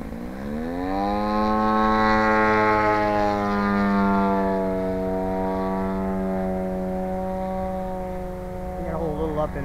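A 40% scale SBach RC airplane's engine holds a loud, steady, buzzing drone with strong harmonics, its pitch climbing slightly then leveling as the plane flies overhead throughout.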